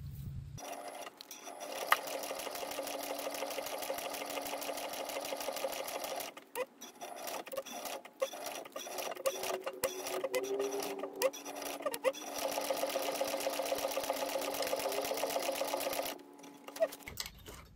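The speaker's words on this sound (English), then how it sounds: "now I'm going to take this to the machine and top stitch" A sewing machine top stitches a laptop bag in long steady runs of rapid close stitching, broken by brief pauses and a few light handling clicks before it stops.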